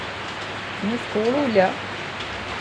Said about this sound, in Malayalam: ഇരുട്ടടച്ച മഴയാണ്.